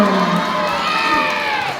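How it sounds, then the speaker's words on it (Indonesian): Children cheering and shouting together at a school religious knowledge quiz competition, a loud, continuous crowd roar of young voices lasting under two seconds. "Beri tepuk tangan"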